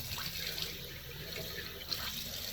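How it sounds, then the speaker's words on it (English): Cold water runs steadily from a tap for rinsing after a shave, a continuous close hiss and splash with a small spatter near the end; no voices. "now you want to use cold water to get it closed off and everything sealed"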